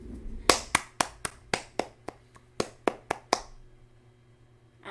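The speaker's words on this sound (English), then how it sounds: "Round of applause." About a dozen crisp hand claps ring out close by in an uneven rhythm, a small, sparse round of applause that fades into quiet.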